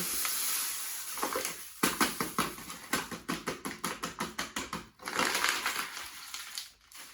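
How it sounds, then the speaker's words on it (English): A kilo of sugar pours into hot water in a series of gritty, rhythmic crunching bursts, close and fairly quiet, then a longer pour follows. "Then add a kilo of sugar."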